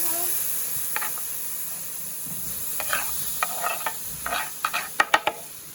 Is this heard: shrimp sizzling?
yes